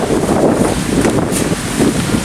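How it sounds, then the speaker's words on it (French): Strong thunderstorm wind buffets loudly and continuously, a dense rumbling roar with gusty swells and no voices. "C'est quoi ce vent?"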